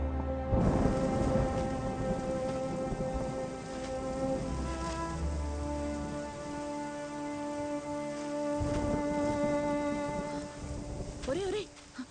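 Steady rain falls through a film scene in a continuous soft hiss, partly buried under a musical score and people talking.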